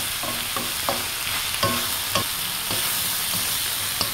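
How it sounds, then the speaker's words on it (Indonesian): Shrimp are stirred in a hot frying pan, giving a loud, steady sizzle. Sharp spatula scrapes and taps cut through it every half second or so, and no one speaks. "Dan kita aduk-aduk lagi ya, aduk-aduk sampai melumuri tubuh udang yang seger ini palawargi ya"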